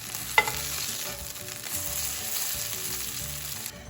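Millet-mushroom burgers fry in olive oil in a pan, a steady close crackling sizzle that continues throughout, with a brief clink early on and no voices.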